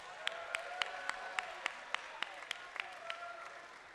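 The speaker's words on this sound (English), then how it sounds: "Let's give a round of applause." Audience applause at a live Boys' State assembly, a faint, steady patter of claps with a few sharper individual claps standing out, heard from a distance in a large room.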